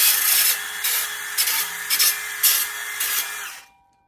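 An 80 grit abrasive disc on a power drill deburrs a small piece of metal, making a close, steady whirring grind that swells in a few short pulses over several seconds before the drill stops and the sound cuts out.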